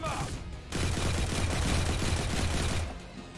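Suppression gunfire rattles in XCOM 2 as a sustained burst of rapid shots, loud and close, lasting a couple of seconds between quieter moments.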